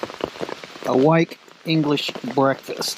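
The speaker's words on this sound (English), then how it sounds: "It's absolutely chucking it down with rain at the moment" Heavy rain pours steadily onto a tent on the Appalachian Trail, a constant close patter running under a voice as he talks from inside.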